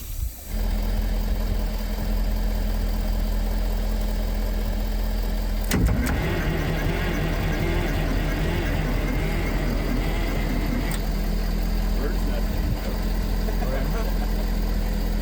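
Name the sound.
Wabco grader engine cranking over slowly on battery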